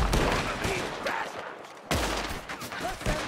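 Gunshots ring out in Red Dead Redemption 2 during a snowy mission: a few sharp, loud cracks with reverberant tails, separated by a brief lull, with faint speech underneath.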